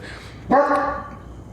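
A dog named Odin barks once up close, one loud, sharp bark that trails off into a short whine, with quiet room tone before it.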